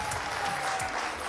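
Studio audience applauding on a televised price-guessing game show, a dense, steady wash of clapping filling the whole short moment without a break.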